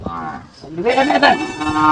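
Bargur hill cattle mooing, a loud close bellowing moo that swells after a brief dip, with a rough drawn-out tone and background voices faintly present.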